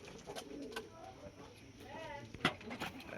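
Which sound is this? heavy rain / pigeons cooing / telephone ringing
pigeons cooing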